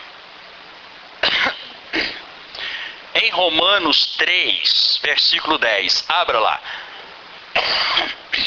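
Several harsh coughs break up a man's sermon, coming in short bursts between phrases, close and loud.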